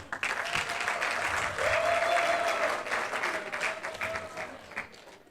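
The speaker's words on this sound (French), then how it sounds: "Sous vos applaudissements" An audience at a beauty pageant in Gabon applauds a contestant, with a sustained, fairly distant wash of clapping and some cheering, a brief whistle-like tone rising midway before the applause thins out.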